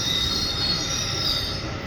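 A metro train on the New Garia line passes at night with a steady, high metallic squeal of its wheels. The squeal holds fairly even for about two seconds over a low rumble, and no one talks.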